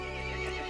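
A horse neighs in the video game Resident Evil Village, a loud, sustained whinny heard up close and lasting under a second.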